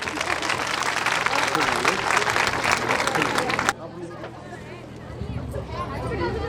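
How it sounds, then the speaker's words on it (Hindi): Applause and crowd chatter from the audience at a preschool annual function, loud and sustained, then cutting off abruptly partway through to a quieter hubbub of voices. "और तालियों की गड़गड़ाहट।"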